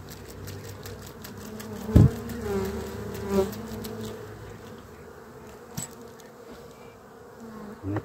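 Honeybees drone steadily around a hive, a close, continuous buzzing with a few knocks and handling sounds on top and no talk.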